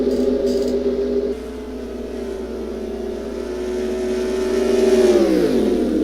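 Formula 1 cars with Ferrari engines whine in the Agip F1 racing video game at the Italian Grand Prix, a loud sustained high-pitched engine drone that holds steady, then rises and drops away as the car shifts and slows.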